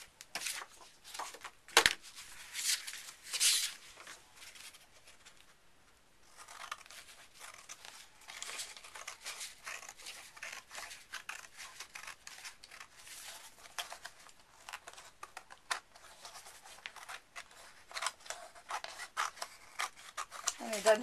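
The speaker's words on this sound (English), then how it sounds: "Doesn't have to be with your paper cutter, and then just scissors will do." Paper being cut and torn, with crinkly rasping snips and rustles continuing steadily up close.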